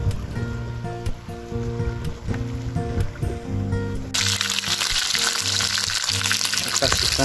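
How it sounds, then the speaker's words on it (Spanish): Steady rushing water from a small waterfall near a fishing and cooking spot, a continuous wash of noise that grows louder partway through, with faint voices underneath. "El ruido de fondo que se escucha es esto acá. Hay tipo una cascadita ahí."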